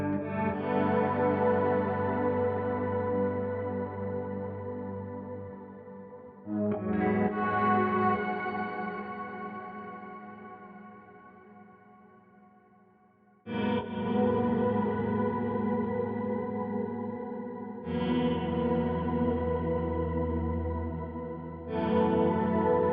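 Electric guitar played through a BOSS GT-1000CORE patch with shimmer reverb, sustained chords ringing out in long washes that slowly fade before each new strum, with a lush, layered tail and no talking.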